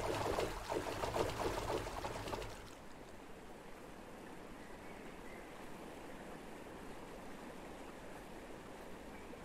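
Rushing high water in the Deer Journey video game, a loud burst of churning water for the first few seconds, then a steady faint stream-like rush.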